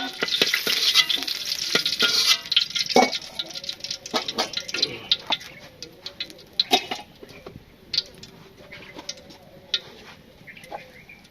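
Potatoes and onions frying in a pan for a home-cooked Bengali curry, with steady sizzling and repeated scraping stirs of a spatula, close and fairly loud, with faint birdsong in the background.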